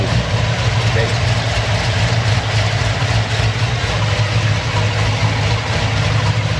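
A Chevy Silverado with a swapped 6.0L V8 idles through a Magnaflow exhaust with a steady, deep, loud burble, up close and unchanging.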